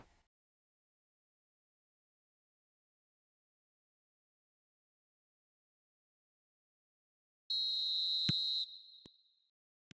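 A referee's half-time whistle in the football video game eFootball 2026 gives one loud, sustained shrill blast after a long silence, followed by a couple of brief clicks.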